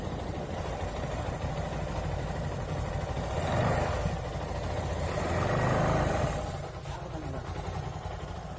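A Bajaj Pulsar motorcycle engine with a knocking noise idles close up, a steady low rumble that swells gently twice before settling, with no voices over it.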